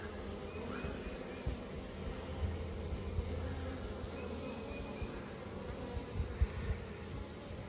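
Honeybees buzz around a hive colony on the first day of spring, a steady close drone with individual bees zipping past the hive.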